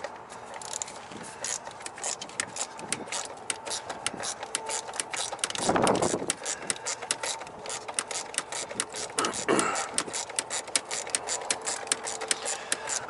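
Ratcheting clicks from a 13mm socket wrench loosening a single bolt on the clutch fan of a Kenworth T680 truck, a steady run of close, rapid metallic ticks with a couple of heavier scraping bursts.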